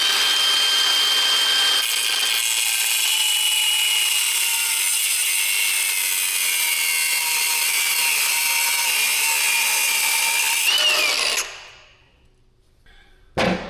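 Angle grinder slicing through a seized bolt on a salvaged man-lift, a loud, steady high-pitched cutting whine that runs continuously for about eleven seconds before the tool spins down and stops.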